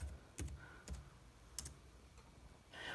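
Clicks of keyboard typing, a few separate keystroke bursts spaced through a quiet room with faint background hum, fairly close but soft.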